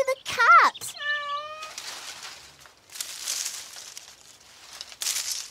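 A frightened cat in a tree gives a loud, rising meow near the start, followed by rustling and softer noises.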